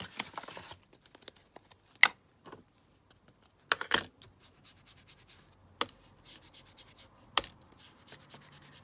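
Distress ink rubbed across paper for handmade washi tape, heard as scattered soft rubbing and dabbing strokes with quiet gaps between them, close and fairly faint.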